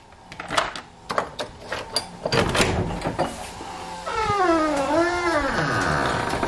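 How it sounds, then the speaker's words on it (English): Cats meow and yowl close by, a series of short calls followed by a long drawn-out wavering cry, with rustling household noise underneath. "I got kitties under feet."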